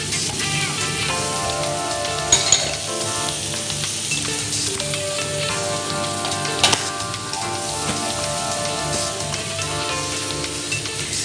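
Shrimp sizzle steadily and loudly in a hot pan, a dense frying hiss that runs throughout, with a couple of brief utensil clanks and scrapes near the start and middle.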